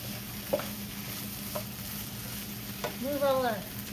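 Frozen vegetables sizzle in a hot pan for an unfried rice dish, a steady frying hiss broken by a few spoon scrapes as they're stirred, with a short burst of voice near the end.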